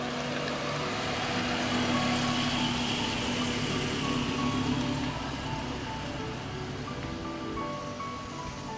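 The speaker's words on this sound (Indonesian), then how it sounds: "kita coba impresi berkendara seperti apa menggunakan dari New Baleno ini" A 2008 Suzuki New Baleno on the move, its steady engine and road drone filling the cabin at a constant level throughout, with a low hum and some wind-like noise and no speech.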